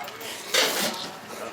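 Dishes and chopsticks clink as someone hurriedly eats a bowl of noodles at Dong Seoul bus terminal, a brief sharp clatter amid background chatter.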